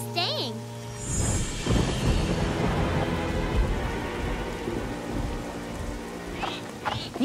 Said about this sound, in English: We'll just have to wait the rain out.